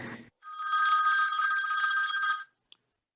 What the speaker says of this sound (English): Yeah, my phone rings while I'm on the phone.